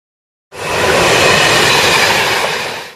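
A train passes close by, a loud broadband rumble of rail cars that starts abruptly after a brief silence and holds steady to the end, with no voices.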